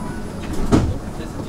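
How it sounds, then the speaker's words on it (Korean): Inside an urban maglev train car, a brief thump and sliding rush as doors shut, over the steady low rumble of the carriage. "Doors are closing."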